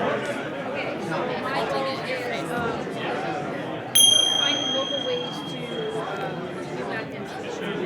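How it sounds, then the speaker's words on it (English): A single bright bell strikes once as a signal in a crowded workshop room, its clear ringing tone sustaining for about a second above the steady murmur of many people chatting. "That was a bell."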